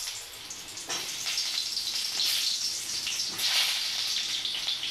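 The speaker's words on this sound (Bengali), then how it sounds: "এবারে এই তেলেতে আমি পেঁয়াজগুলো ভেজে নেব।" Onions fry in hot oil in a wok after dried chillies, giving a steady, hissing sizzle that swells in bursts, close and loud with no talking.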